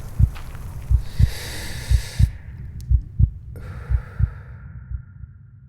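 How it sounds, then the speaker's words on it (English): A steady, heavy heartbeat thumps about once a second, loud and close, with breathing and a faint hiss behind it, like a walk on a dirt trail in a park. "my feet stepping on the dirt trail, my breath rising up from inside of me, my heart beating"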